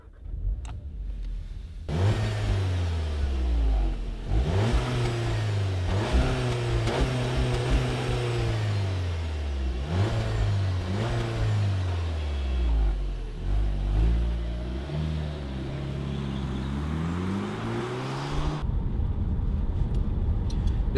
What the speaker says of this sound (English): I think we should get it and then take it for a spin and see what that feels like on the main road